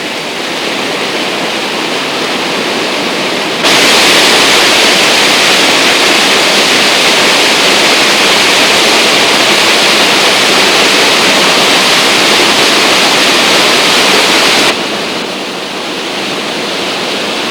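Water in a forest stream near Udupi rushes steadily in a loud, continuous wash. The sound swells for a long stretch in the middle, then drops back slightly.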